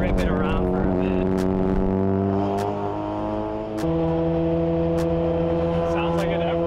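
A Mazda RX-7 sports car engine roars steadily with shifting pitch, revving up and dropping, close to the listener, with sharp clicks punctuating it.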